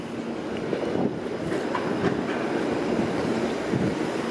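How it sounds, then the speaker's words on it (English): An out-of-service streetcar on the Bay Street tracks in downtown Toronto gives a steady, fairly close low rumble with faint wheel clatter throughout, and no voices. "Of course, there's a streetcar on Bay Street, obviously out of service."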